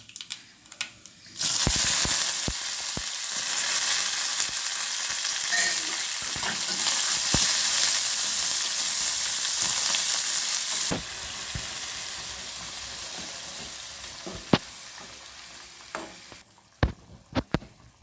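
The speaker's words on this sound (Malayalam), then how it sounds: "ആദ്യം കടുകിട്ടു കറിവേപ്പില ചെറിയ ഉള്ളി മുളക് ലേശ ഉലുവയും കൂടി കൂട്ടി വറുക്കണം" Mustard seeds, curry leaves, shallots, chili and fenugreek fry in hot oil for a Kerala tempering. A steady close sizzle is punctuated by sharp pops and crackles, then it quiets near the end.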